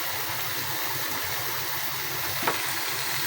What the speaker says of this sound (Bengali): ভর্তার শুটকিটা এভাবে দিয়ে আবার কি ভাজি